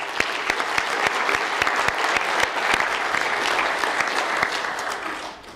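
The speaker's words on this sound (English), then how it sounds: "let's give him one more round of applause for that" An audience at an afternoon Q&A session breaks into loud, sustained applause, sharp claps crowding together, then thinning at the end.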